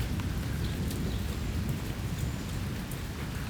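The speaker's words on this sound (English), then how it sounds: "Big storm just came through, and it's just this constant rumble of thunder going on right now." Steady rain pattering on surfaces outside a shop during a passing thunderstorm, with a low continuous rumble of thunder underneath the close, constant hiss.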